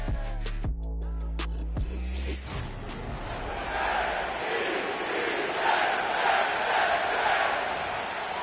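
Stadium crowd in an EA Sports football game before a Saints versus Jets matchup: a sustained roar of many voices and cheering, preceded by several sharp percussive hits and a low tonal sting at the start.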